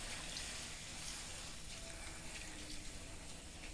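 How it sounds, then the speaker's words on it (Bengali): Water pours steadily into a pan while small catla fish are prepared for steaming. The pouring is a continuous gushing rush that fills the whole short stretch, with no voices. "জল দিয়ে দিই,"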